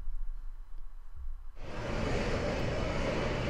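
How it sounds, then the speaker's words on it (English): Recorded airport ambience played back by a phone app: after a quieter start, a steady, dense wash of broadband noise like distant aircraft engines and terminal hubbub begins about halfway through and continues evenly, with no speech. "it's going to play the background noise of apparently an airport"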